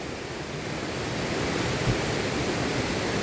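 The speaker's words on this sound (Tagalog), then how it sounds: "Agos ng tubig. Ang lakas." A strong rushing water current crashes against large rocks, making a steady, loud, unbroken roar of water with no pauses.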